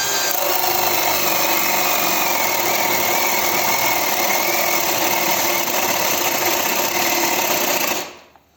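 A DRIVAK ED002 cordless drill whines steadily at high speed in second gear while boring into wood, loud and close, then cuts off abruptly near the end.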